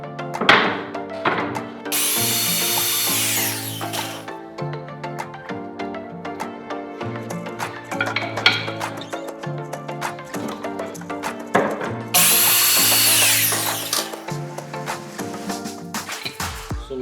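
A power drill with a 1-inch bit bores through a wooden dowel, cutting it in half. Two loud, sustained whining bursts of several seconds each rise over steady background music, with quieter tapping between them.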